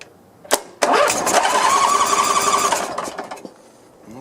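A vintage Cub Cadet 1440 garden tractor with its engine cranking over, a couple of sharp clicks and then a brief churning crank as it catches and runs roughly for a few seconds before cutting out, close and loud.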